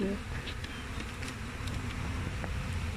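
Honeybees buzzing around a small nucleus hive made from a swarm, a dense continuous drone close by with a few individual bees passing nearer.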